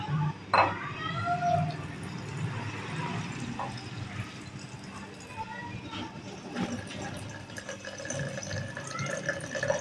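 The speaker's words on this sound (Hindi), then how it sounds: "अब हम इसके अंदर स्प्रिट डालेंगे" Spirit trickles and splashes into a jar holding a starfish for preservation, soft liquid pouring with light clinks, while a voice talks over it.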